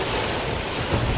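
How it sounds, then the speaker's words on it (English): Heavy rain pours down in a dense, roaring wash of noise, loud and unbroken for a moment, with no voices over it. "Even though it's pouring out, like it's really pouring."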